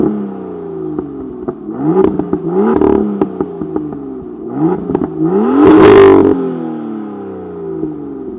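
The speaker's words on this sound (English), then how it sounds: "I'm just going to leave you with the engine sound, just so you guys can hear how this sounds" A 2016 BMW M2 engine revs repeatedly nearby, with rising and falling throttle blips and a louder, sharper rev near the end, accompanied by crackles as each rev drops back to idle.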